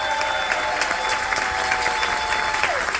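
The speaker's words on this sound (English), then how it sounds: "Make some noise for our military families" A large audience applauds steadily and cheers for military families at an appreciation event, a dense, continuous wash of clapping with scattered shouts.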